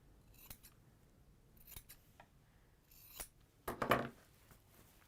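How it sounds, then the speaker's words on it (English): Scissors trim excess fabric from sewn corners in a quiet room, giving a few soft snips followed by one louder, closer cut near the end. "all we'll do is just trim off any excess on those corners"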